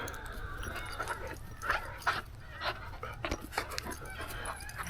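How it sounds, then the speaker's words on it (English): Several dogs pant and snuffle close by at someone's feet on a hillside farm, with short yips and whimpers rising over steady outdoor background noise. "Some crazy dogs at my feet."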